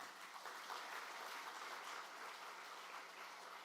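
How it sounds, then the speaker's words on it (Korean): Faint, distant applause from a church congregation during a Sunday evening worship service: an even, continuous patter of clapping with no voices over it. "여기 좋은 교회, 신복교회가 있습니다. 박수 주시겠습니까?"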